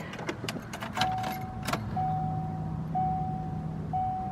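A cold 2002 Subaru Forester with a swapped 2003 USDM EJ205 engine starts after a jangle of keys and brief cranking, then settles into a faint, steady idle while a warning chime beeps at regular intervals.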